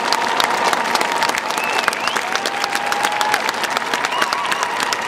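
Steady, dense audience applause greets singer Roberta Valentini as Elphaba at the Gasometer, continuous clapping with a few faint whistles throughout, fairly loud and without speech.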